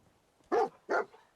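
A dog gives two short, sharp barks about half a second apart, close and clear against an otherwise quiet background.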